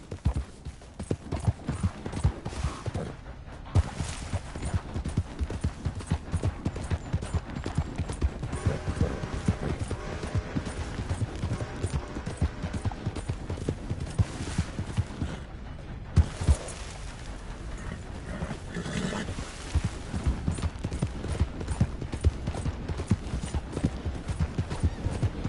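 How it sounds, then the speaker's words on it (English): Horse hooves clip-clopping in a PS4 video game, a steady, continuous rhythmic trot of hoofbeats throughout, close and prominent, with a faint whinny at one point and no clear talk. "Hey, that's a nice-looking horse you have there."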